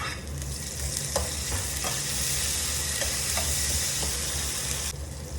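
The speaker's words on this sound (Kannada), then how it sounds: "ಈಗ ಟೊಮೊಟೊ ಹಾಕೊಳ್ಳೋಣ." Tomatoes tossed into a hot frying pan, a loud continuous sizzle with repeated scraping stirs over it, the hiss dropping away abruptly near the end.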